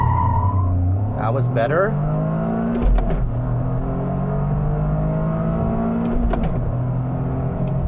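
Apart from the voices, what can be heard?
Toyota GR Corolla AWD launching hard down a straight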